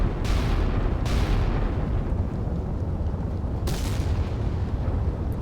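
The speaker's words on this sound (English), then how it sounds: "Salvo fire." A salvo from naval guns on warships in the game Sea Power, with deep booms and rolling rumble, sharp blasts at the start and again near the end over a continuous low roar.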